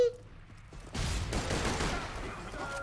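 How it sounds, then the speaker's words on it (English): Sniper rifle gunfire in Borderlands 2, a sharp shot bursting in after a quieter moment, then a sustained loud rush of echoing blast and clatter, brief and close. "This sniper rifle is fucking epic."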